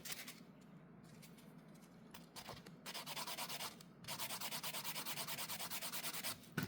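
Faint, quiet rubbing strokes of buffing or filing worked at a 45-degree angle, starting irregular and then settling into a quick, even back-and-forth rhythm near the end.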